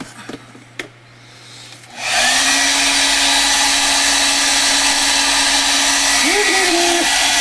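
After a couple of quiet seconds with faint clicks, a hair dryer switches on to dry an art journal page, blowing loud and steady up close with a constant hum and a slight wobble near the end.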